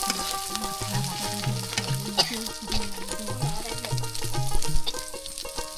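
Dried fish frying with onion and chili in a pan, a continuous loud sizzle with scraping and stirring clatter from the utensil, close up and with no talking.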